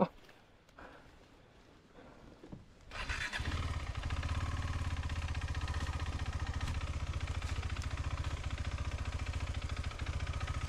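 A motorcycle engine starts after quiet rustling, then runs steadily with a loud, even, pulsing idle close by on an off-road trail.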